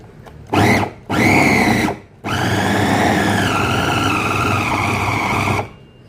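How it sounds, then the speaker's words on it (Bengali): An electric grinder minces chicken meat for malai kofta curry, whirring loudly in three bursts, two short ones and then a longer steady run, with a strained motor tone that shifts slightly as the meat is drawn through. "মাংসের কিমাটা করে নিচ্ছি"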